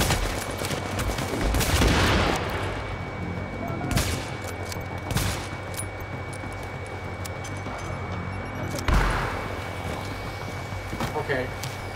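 Turret gunfire in The Division video game: repeated bursts of automatic fire over a dense game soundscape, with heavier volleys around the start and near the end, mixed with ongoing background noise.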